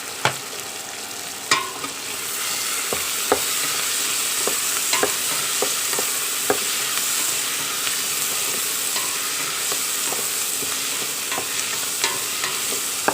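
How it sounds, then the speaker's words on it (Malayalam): Vegetable pulao being stirred in a pan, with a steady sizzle of frying underneath and scattered scraping clinks of the spoon against the pan, close up and with no talking. "ഇതെല്ലാം ഒന്ന് നന്നായിട്ട് ഇളക്കി യോജിപ്പിക്കണം."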